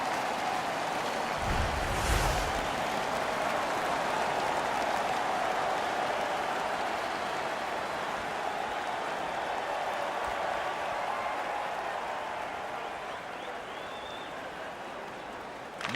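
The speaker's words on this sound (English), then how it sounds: "This is the loudest this building's been all night." Arena crowd in an NHL 15 hockey game roaring in a steady, loud, continuous wash of cheering that holds for the whole stretch and eases slightly near the end.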